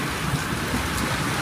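Heavy rain pours steadily during a windy, violent February thunderstorm in Montoison, France, a dense broadband hiss close and continuous without any distinct thunderclap in this short stretch.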